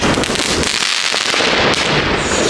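Fireworks going off outdoors on New Year's Eve, a loud continuous barrage of crackling bursts and hissing pops close by, with no pauses.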